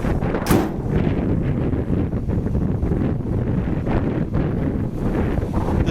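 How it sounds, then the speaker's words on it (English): Wind buffets the microphone outdoors on a cold morning beside an idling 1964 Chevrolet Impala, a loud continuous roar and rumble with gusts throughout and no talk. "Also, I apologize, it's a little windy too."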